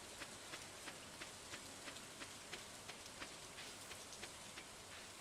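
Soft, steady rain from Stardew Valley, a faint even patter with light regular ticks and no voices.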